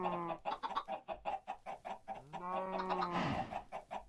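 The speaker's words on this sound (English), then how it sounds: "we can't muffle the sound, we're going to have to deal with the chicken sounds for now" Minecraft chickens in a SkyFactory 3 modpack world give a steady run of short clucks and squawking calls, several overlapping in quick irregular bursts, fairly close and loud with no talking.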